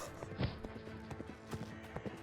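A horse ridden in the VR sword-fighting game Hellsplit: Arena gives a quick, uneven run of light hoof clip-clops. The hoofbeats sound close and moderately loud over a low ambient hum.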